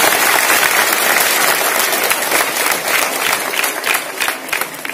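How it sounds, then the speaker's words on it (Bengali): A crowd applauds a student named Subhanil at a gathering. Close, dense clapping holds steady, then thins slightly toward the end. "শুভনীলের লেগে সবাই মিললে একটা জোর একটা হাততালি দাও।"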